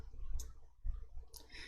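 Two quiet, crisp clicks of a computer mouse used in Excel, spaced about a second apart over a low background hum.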